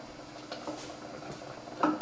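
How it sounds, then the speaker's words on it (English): Soft bubbling of water boiling in a pot, a steady low simmer with a couple of small clinks near the end. "Now you notice you hear my water, it's already boiling."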